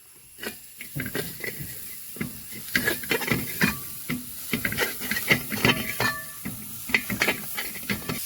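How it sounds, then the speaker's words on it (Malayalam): Grated coconut fries in hot ghee while a spoon stirs it, giving sharp crackles and pops over a soft hiss, irregular and close throughout. "നല്ലപോലെ മിക്സ് ചെയ്ത് കൊടുക്കാം."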